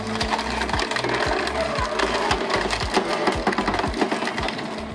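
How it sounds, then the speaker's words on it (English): A firewood processing machine splits logs with a steady, loud mechanical din, punctuated by regular sharp cracks and thumps as each piece of wood gives way. "Listening to the sound of wood being split, you can clearly see the power of this firewood processing machine."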